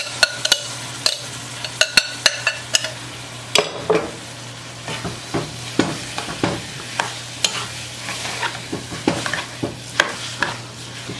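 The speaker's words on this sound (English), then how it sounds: "Now it's time to add our rice. So this is 5 cups of long grain rice." Long grain rice, five cups' worth, goes into a pot and is stirred, giving a run of sharp scraping and clinking strokes in an irregular rhythm over a faint steady hum, close and clear with no talking.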